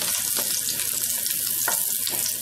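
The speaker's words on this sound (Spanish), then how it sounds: "Esperamos alrededor de que nuestro rico ajo suelte su sabor y se empiece a tornar un poco dorado" Garlic fries in a pan with a steady, bright crackling sizzle, a few soft spatula taps breaking through the close, continuous hiss.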